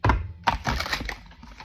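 A tarot deck is riffled and shuffled close up, two quick bursts of fluttery, papery clatter, the second one longer and trailing off.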